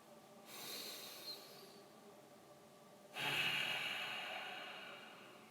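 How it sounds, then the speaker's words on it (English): A person takes a deep, long breath, heard as two close, airy breath sounds, a gentle inhale followed by a stronger, hissing breath that fades slowly. "take a very deep, long breath"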